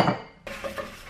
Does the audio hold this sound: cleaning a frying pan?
yes